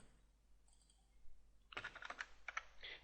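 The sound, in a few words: typing numbers on computer keyboard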